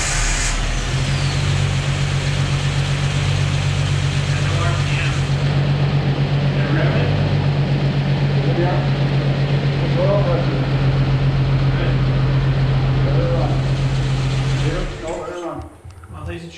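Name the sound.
Jeep engine starting and running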